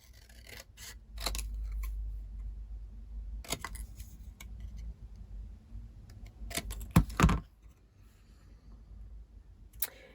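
Scissors cutting a paper sentiment for a Christmas card, a few distinct crisp snips with short pauses between, close up and fairly quiet against a low background hum.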